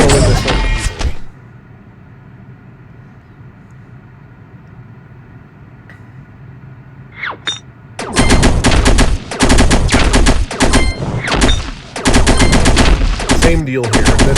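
Rapid weapon fire from the mobile action game Archero 2, a fast-firing primary weapon boosted by the Knuckles, bursting loud and dense after a quieter stretch of ambient game sound, with several close volleys in quick succession.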